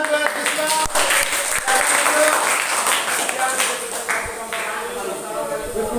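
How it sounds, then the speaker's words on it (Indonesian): Applause in a training class for Krisna, with dense clapping running steadily through the moment, fairly close, while talk and noise from the group continue underneath. "tepuk tangan buat Krisna"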